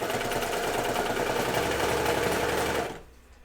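Cover stitch sewing machine running on a pair of pants, a loud, steady, fast rattling hum heard close, stopping abruptly near the end.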